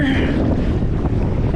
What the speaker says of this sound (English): it's a little windy, a little choppy right here near the boat ramp